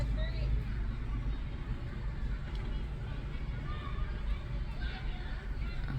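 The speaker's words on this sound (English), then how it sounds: "Kids running past the car." Children chatter and call out while running past a car, heard from inside it over a low rumbling background, with faint patter of movement; voices blend into a continuous babble.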